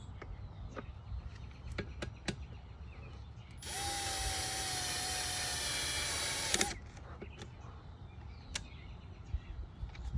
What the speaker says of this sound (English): Now I'm going to go ahead and torque them down.